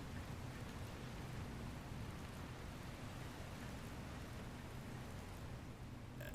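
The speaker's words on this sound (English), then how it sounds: "Looks like there's another storm rolling in." Steady rainstorm in the video game Dragon Quest Builders, a continuous even hiss of falling rain with no breaks, fairly faint and alone.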